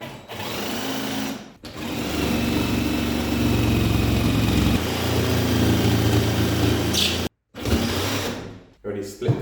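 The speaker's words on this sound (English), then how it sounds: "Start with the jigsaw, pop it in the hole." A jigsaw cutting through plasterboard during a renovation, buzzing loudly and continuously for several seconds before stopping briefly, restarting, then halting again.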